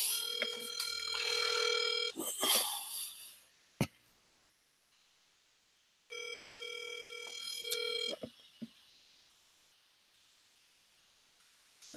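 A telephone rings out while a phone number is being dialed, two bursts of ringback tone separated by a pause, with soft clicks and handling noise in between.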